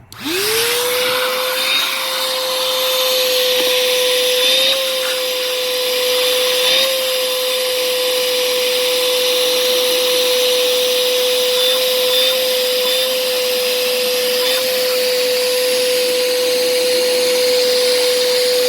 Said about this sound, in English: we're going to use a vacuum cleaner and vacuum around the ignition coils